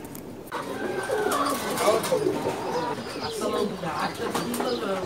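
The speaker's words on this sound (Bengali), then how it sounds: "কণ্ঠি গলা কবুতর" Kanthi gola pigeons in a loft coo softly and repeatedly at close range, with a steady murmur of other birds around them and a brief flutter of wings.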